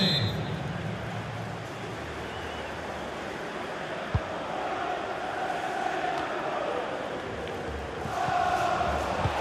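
Stadium crowd noise from a FIFA 23 match between Sevilla and Man United in a Europa League quarter-final, a steady broad roar with a brief thump near the middle and a swell toward the end, heard beneath commentary.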